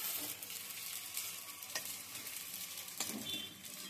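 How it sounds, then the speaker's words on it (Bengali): Green banana peel fritters sizzle in a shallow film of oil, a steady bright crackle with occasional sharper pops and stirring scrapes, close and continuous with no talking. "এই বড়াগুলো খুব কম তেলেই ভাজা হয়, তেল ছড়িয়ে ছড়িয়ে, খুব একটা তেল লাগে না"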